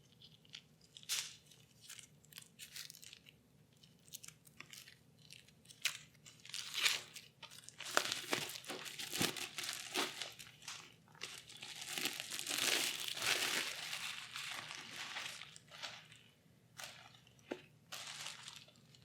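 Plastic packaging crinkles and crunches as it is pulled off a Machina Arcana Premium 2nd Edition board game during unboxing, a close, steady crackle with sharper bursts throughout and no talking.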